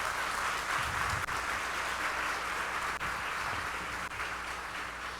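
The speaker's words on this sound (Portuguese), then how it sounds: "Dá uma salva de palmas para eles" A church congregation applauds a group at a Christian family class, a steady wash of clapping from a large crowd that holds for several seconds at an even level.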